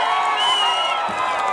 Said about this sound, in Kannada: ಮಾನವಿತಾ ಅವರಿಗೆ ಜೋರಾದ ಚಪ್ಪಾಳೆ ಕೊಡಿ